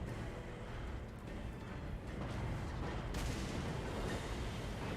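A big cannon fires across a Total War: Warhammer 3 battlefield, a faint booming blast rising out of a dense, rumbling wash of distant combat noise.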